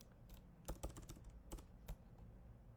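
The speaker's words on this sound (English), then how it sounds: "Let me type in my good morning here." Quiet, close keystrokes on a computer keyboard, a handful of irregular clicks in small bursts over a faint room hum.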